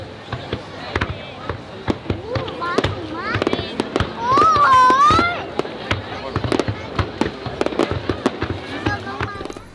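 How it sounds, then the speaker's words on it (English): Fireworks pop and crackle on a beach at night in a rapid series of sharp bangs, with a rising whistle mid-way and people chattering and calling out in the background. "this fireworks display"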